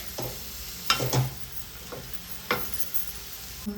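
Vegetables frying in a pan for wheat noodles, stirred with a spatula now and then, giving a soft steady sizzle under a few sharp scraping strokes, close and moderately quiet, with no talk.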